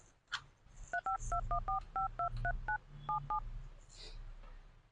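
A telephone number being keyed in, about a dozen short dual-tone beeps in quick uneven rhythm, clear and close, with faint low background noise and a brief soft voice sound at start.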